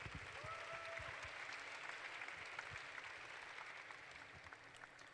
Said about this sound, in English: everyone else, a big round of applause for them